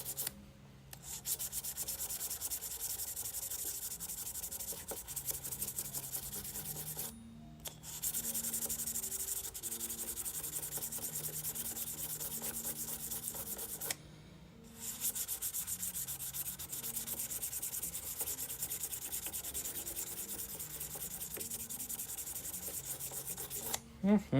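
Hand sanding wood with 1000-grit sandpaper, a close steady rhythmic rubbing with regular back-and-forth strokes, continuing for long stretches broken by two brief pauses.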